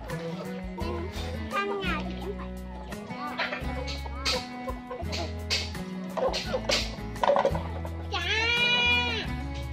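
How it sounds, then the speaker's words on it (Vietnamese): Hens and other farmyard poultry on a household farm call repeatedly in short bleat-like clucks, close and fairly loud, with a dog nearby and people talking over the flock. "gà nhà mình giờ này toàn gà mái thôi"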